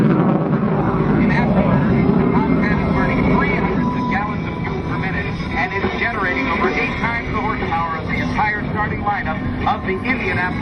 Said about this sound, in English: here comes the Tomcat in the flat 8